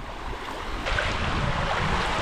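Sea at Legazpi beach, with clear water over black sand, washes in as a steady broadband surf swell that grows slightly louder partway through, mixed with breezy wind rumble and no talking.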